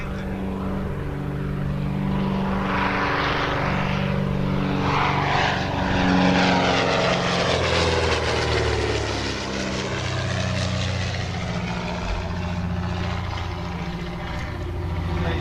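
Vintage propeller aircraft flying at an air display, a continuous loud engine drone that swells and shifts pitch as it passes, with no talk.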